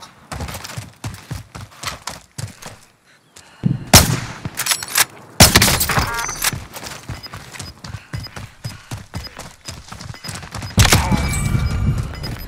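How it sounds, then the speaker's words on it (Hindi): Gunfire in the video game Warzone, with sharp close shots in quick rhythmic bursts and several louder heavy volleys standing out over game noise, with no one talking over it. "हाय शॉट किसने मार दिया"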